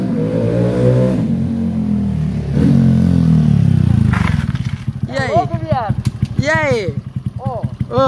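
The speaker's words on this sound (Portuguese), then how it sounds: "Mano, não parece que a moto tem um tubo, velho?" A Honda Pop 110 motorcycle with a modified exhaust revs loudly nearby, climbing through a drawn-out whine and then settling into rapid, choppy firing, while people talk excitedly over it.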